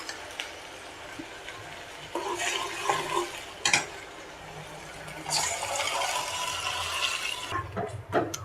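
Boiled chickpeas poured with their cooking water into a pan while making street-style sundal masala, giving a close, splashing liquid pour in several bursts with a clatter near the middle.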